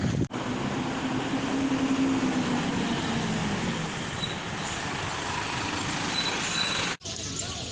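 A bus engine rumbles low and steady at a stop, with a broad wash of traffic noise and a faint hiss, continuous and fairly close.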